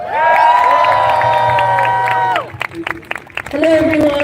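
Crowd at a rally in Manchester applauding and cheering, a dense sustained wash of claps and shouts that cuts off midway, followed by scattered noise and a brief second burst.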